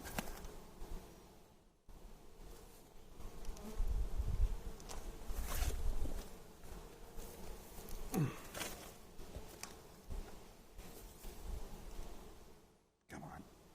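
Swarm of honey bees buzzing during a hive inspection, a soft continuous drone close by, with handling noises and quiet voices talking over it.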